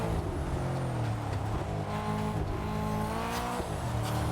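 A car's engine steadily revs and pulls under acceleration in the racing game TDU: Solar Crown, a continuous loud droning whine with gear-shift dips and faint tire noise, no talking.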